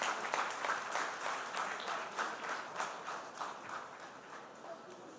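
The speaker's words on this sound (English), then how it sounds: "Ladies and gentlemen, a huge, huge round of applause." A seminar audience gives a round of applause, moderately loud clapping from a crowd that fades gradually over a few seconds.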